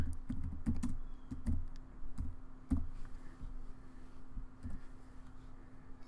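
Someone types on a computer keyboard, producing irregular clusters of soft, close clicks and key taps over a faint steady background hum, with no talking.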